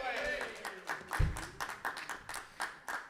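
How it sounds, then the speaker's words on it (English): Scattered audience clapping during a live-streamed orchestra show, honouring a couple's 55th wedding anniversary, a faint uneven patter of hands with a voice talking over it. "Round of applause for that, I think."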